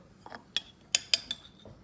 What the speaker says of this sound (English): So I'm going to mix this all up, make it just a little bit more liquidy